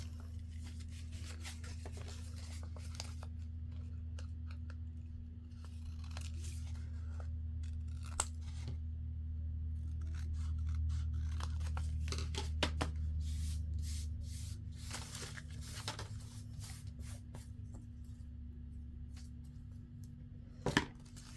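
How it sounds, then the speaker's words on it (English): Scissors snip through paper flaps of a 12x12 paper craft project in a series of short crisp cuts, close and fairly quiet over a steady low hum. "you can cut some of this paper off, and they can actually kind of be cut at an angle"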